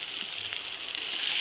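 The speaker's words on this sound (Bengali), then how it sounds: "এবারে বেশ কিছুক্ষণ ওগুলো দিয়ে কষিয়ে নেবে মশলাটাকে।" Onion and ground spice paste fries in oil for a meat khichuri, giving a steady, soft sizzle with a fine crackle that swells slightly toward the end, heard alone without talk.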